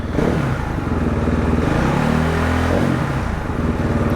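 A 2016 KTM 450 XCF dirt bike engine revs up loudly close by, the pitch rising and falling in a surge before settling back to a rough idle.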